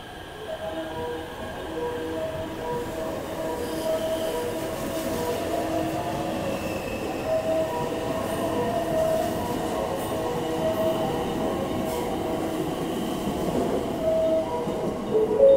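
A JR West train rolls into a platform at Shin-Osaka station with a steady moderate rumble and faint wheel squeal, building gradually over about 15 seconds.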